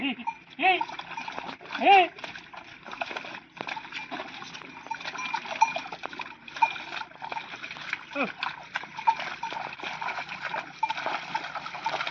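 Wet splashing and squelching of oxen hooves pulling a plough through a muddy Konkan paddy field, with a shouting voice calling to the animals over steady background noise.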